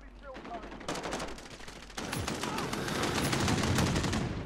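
Rapid gunfire in Call of Duty Modern Warfare, dense overlapping shots and bursts growing louder over the clip, with someone talking excitedly throughout.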